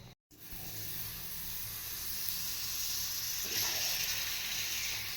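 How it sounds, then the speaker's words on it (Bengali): Pieces of meat frying in a pan, giving a steady, soft, close sizzle and hiss that swells slightly toward the end after a brief break at the start, with no voices. "সব দিকে একটু ঘুরিয়ে ফিরিয়ে এটাকে ভেজে নিচ্ছি"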